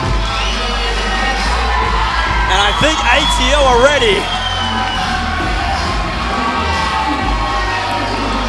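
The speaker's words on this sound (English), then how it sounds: "The crowd is deafening right now." A wrestling crowd roars steadily through a tag team dog collar match, with loud cheering, whoops and shouting from the arena and a commentator talking over it.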